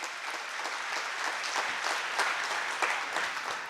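An audience at a doctors' seminar gives loud applause for a team of doctors, dense steady clapping filling a few seconds without speech.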